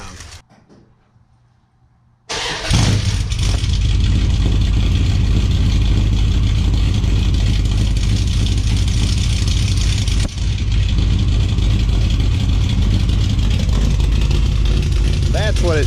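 A Ramcharger truck with a newly welded Dynomax exhaust starts up after a short quiet spell, then runs loud and steady with a deep rumble and a brief blip around the middle. A voice can be heard in the clip.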